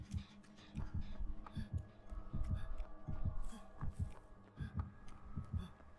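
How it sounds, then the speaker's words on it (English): A steady, pulsing heartbeat in the Dead by Daylight video game signals an approaching killer, with low double thumps repeating at a regular rhythm over a faint hum. "Or at least the heartbeat is saying that you're following me"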